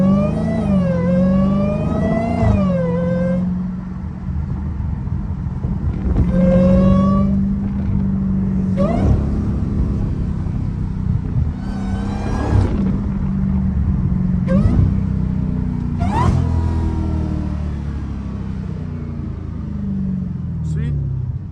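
Loud Dodge Hellcat V8 engine revving repeatedly while driving, sharp rising rev bursts every few seconds over a constant heavy rumble, with someone talking throughout.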